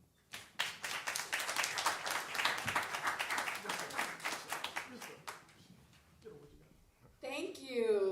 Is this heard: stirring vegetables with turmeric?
no